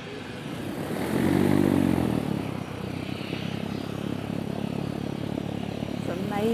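An electric plane taxis at Cambridge Airport, a steady, fairly quiet propeller whir that swells briefly and then holds steady, heard outdoors over low background noise.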